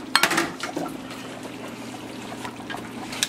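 A spoon stirs tomato paste into a thick oxtail stew liquid with soft wet sloshing and a few clinks against the pot. The sound is close and fairly quiet and continues steadily without talking.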